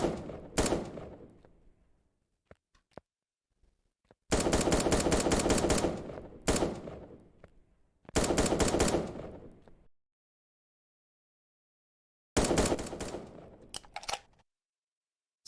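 Automatic gunfire comes from an aimbot in the shooting game 1v1.lol, in four separate rapid bursts of shots with silent gaps between them, loud and close.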